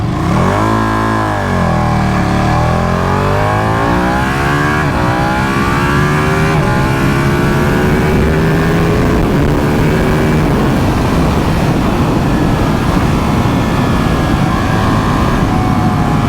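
A Ducati Panigale 959 motorcycle engine accelerates hard in race mode, revving up through the gears with rising pitch sweeps, loud and close throughout, no talking.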